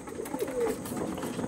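Pigeons kept for sale give a brief, low cooing murmur, close by, over faint background noise.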